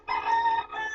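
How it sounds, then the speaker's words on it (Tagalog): A neighbour's fighting cock crows once, a loud, close, harmonic cock-a-doodle-doo lasting about a second with a brief break near the end. "I'm sorry sa manok, medyo marami kasing manok na panabong yung kapitbahay namin."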